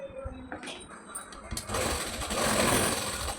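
A sewing machine runs steadily as it stitches the folded hem of a pair of shorts, whirring louder in the second half, while a person talks over it.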